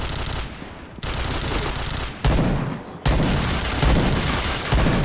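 Loud, continuous automatic gunfire in the online shooter Point Blank, sustained bursts broken by brief pauses and punctuated by heavier booming shots.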